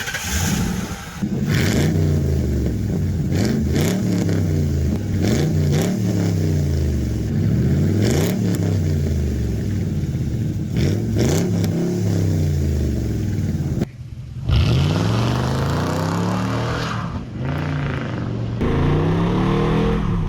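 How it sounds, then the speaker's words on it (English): Mercury Marauder V8 carving back roads, engine revving repeatedly with rising pitch through the gears, loud and close, with a brief drop near the end before pulling hard again; no talk. "I'm gonna go ahead and hop in the Merc and carve up some back roads with it."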